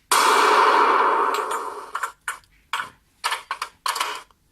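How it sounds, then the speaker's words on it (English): A cannon shot effect plays from the speaker box of an RC tank. A loud blast fades over about two seconds, followed by a series of short, sharp metallic clanks and bursts. "Cannon."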